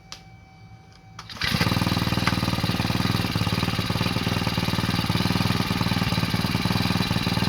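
A brush cutter running on hydrogen gas cranks, then its small two-stroke engine catches and roars into a loud, steady, buzzing run that holds close and unbroken.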